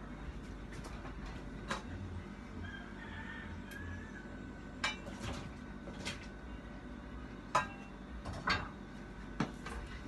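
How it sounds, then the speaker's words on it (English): Peeled yellow yam and vegetables dropped into a cooking pot for Jamaican ital soup, heard as scattered, irregular knocks and clunks over a low background hum. "So I'll put them in a pot now."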